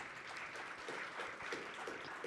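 A conference audience at a national green hydrogen event applauds, a faint, steady patter of many hands clapping at a distance with no talking.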